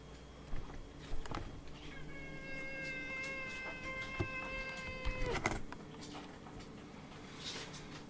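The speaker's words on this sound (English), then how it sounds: "You might hear Pepper the cat." A house cat meows in a long drawn-out call that rises and holds for several seconds, fairly close, with soft clicks and small kitchen knocks around it.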